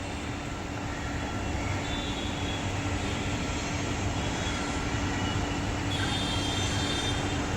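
A Mumbai local train runs near Mahalaxmi, beside the racecourse with a road below, after rain. A steady, loud rumbling roar continues unbroken throughout, with no voices.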